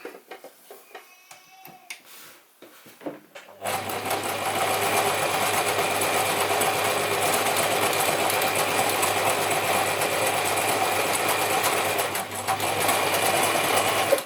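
A Gritzner 1002 or Pfaff 307 sewing machine sits quiet at first with some small handling clicks, then starts stitching, giving a close, steady, loud mechanical whir and rapid needle rattle that carries on to the end.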